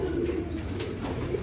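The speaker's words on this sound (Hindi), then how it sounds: "देखिए हमारे राजू भाई के हाथ में भी पपैया कबूतर है माशाल्लाह, बहुत खूबसूरत है।" A papaya pigeon coos steadily and close by on a farm loft with other pigeons, a soft continuous low warbling that fills the short moment on its own.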